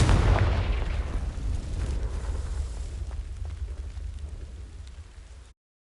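A blasting fire spell from the Hogwarts Legacy video game detonates in a loud, close explosion with a deep booming low end that rolls and slowly decays over several seconds before cutting to silence.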